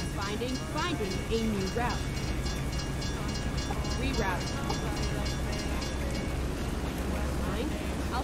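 A freight train rumbles past in the American Truck Simulator game, a steady dense rolling clatter that fills the whole stretch, while a person talks over it.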